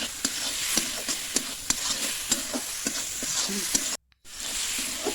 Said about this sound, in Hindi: अब मैं 1 चम्मच हल्दी का पाउडर डाल लेती हूँ और हल्दी का पाउडर भी अच्छी तरह से पका लेना है।